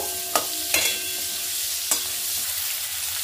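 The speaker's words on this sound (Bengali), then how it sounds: "অন্য সবজিগুলো আমি সব দিয়ে একটু ফ্রাই করে নেব। খুব হালকা ফ্রাই করব।" Vegetables lightly frying in a pan for quinoa khichuri, a soft steady sizzle with a few sharp utensil taps against the pan.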